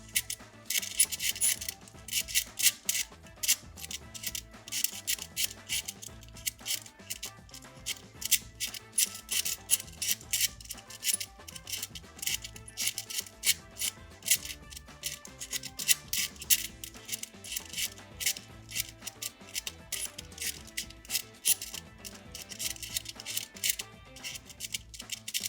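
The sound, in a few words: shuffling the sliding tiles of a Thinkfun Fifteen Puzzle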